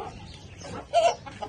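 A hen in a coop gives one short, close cluck amid quieter rustling and faint background noise.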